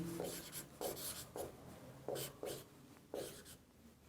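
Chalk or marker writing on a board in a physics classroom, quiet rhythmic scratchy strokes in short repeated bursts, close and alone without talk.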